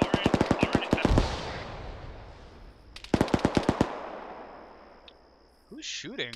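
Heavy machine gun fire in ArmA 3, two rapid bursts of loud, closely spaced shots with a rolling echo after each, then a voice speaks briefly at the end.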